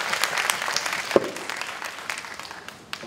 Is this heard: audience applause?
yes